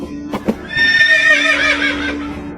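A horse whinnies loudly and close by in a long, wavering neigh, preceded by a few brief hoof thuds; a steady low hum runs underneath.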